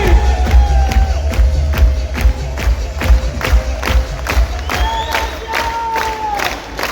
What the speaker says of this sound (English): should give a big round of applause to Saurabh. Come on, Indians, cheer up!